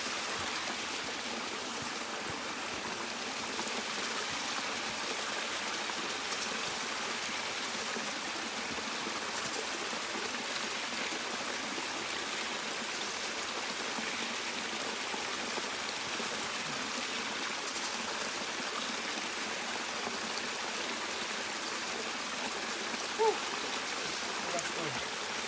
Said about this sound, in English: Let's go down to the waterfall and get a drink from there.